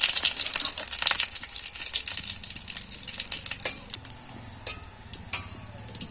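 Whole garam masala and two bay leaves hit hot oil with browned cumin, flaring into a loud close crackling sizzle that gradually settles into lighter sputtering pops.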